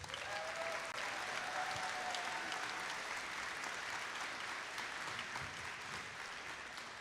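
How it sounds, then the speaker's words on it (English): A crowd of robotics teams gives sustained applause at a district championship event, with dense, even clapping filling the hall throughout. "So give yourselves a round of applause."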